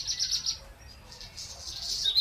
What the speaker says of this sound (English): Just like the relaxing chirping of a bird.